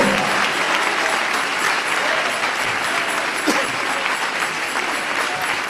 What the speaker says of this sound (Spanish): Dale ese aplauso de alabanza al Señor Jesucristo.